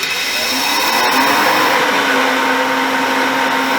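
A Greenworks Pro 2300 electric pressure washer runs at maximum pressure through a 1.0 orifice nozzle, producing a loud continuous motor whine with a rushing spray hiss that holds steady for several seconds before cutting off.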